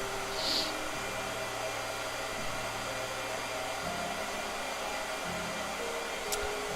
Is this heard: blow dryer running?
yes